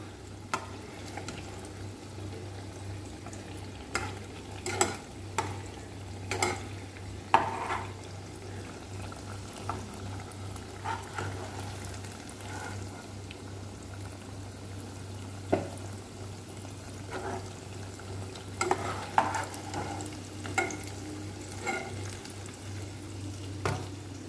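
Sweet potato malpua fry in oil, a quiet, steady bubbling sizzle with sporadic clinks and stirring taps over a low hum, no talking.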